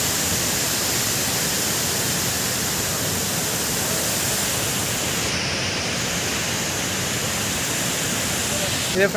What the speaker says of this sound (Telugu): ఇది వాటర్ ఫాల్స్. వాటర్ ఫ్లో చాలా తక్కువ ఉంది.